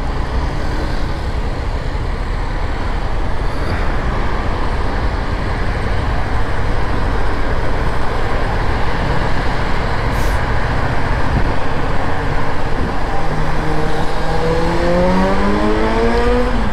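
Steady roadway noise from a motorway, with cars, buses and trucks rolling past in a continuous, close and loud wash of engine and tire sound, one vehicle's pitch rising toward the end.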